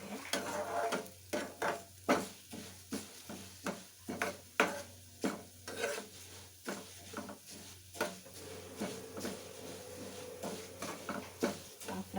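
Moong dal frying in a pan while being stirred for payasa, with a soft sizzle beneath repeated scraping strokes of a spoon against the pan, close and fairly quiet.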